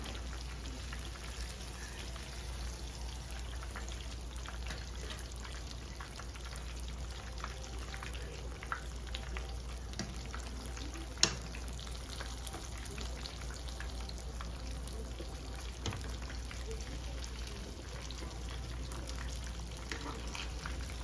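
Fish frying in hot oil gives a steady, dense crackling sizzle for the whole stretch, with scattered sharper pops and spits rising above the constant hiss.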